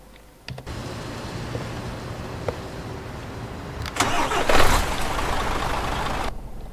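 An engine cranking and catching in Euro Truck Simulator 2, a broken-down car turning over and then settling into a steady mid-pitched run with a louder surge near the end, heard alone.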